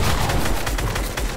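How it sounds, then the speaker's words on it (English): Rapid gunfire rattles in a Fortnite 3v3v3v3 match, a dense burst of loud close shots. "you're pretty good at shooting the air"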